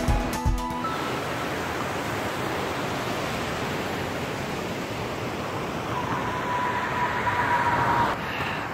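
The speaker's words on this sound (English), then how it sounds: "The water's moving pretty fast" Fast-flowing water of Oak Creek rushing steadily in a snowy landscape, a loud, continuous broadband roar that stays even throughout, with a brief click near the start.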